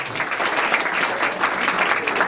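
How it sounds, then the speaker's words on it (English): Wedding guests clap in a steady, dense round of applause, fairly close and continuous for a couple of seconds. "So please give him a round of applause."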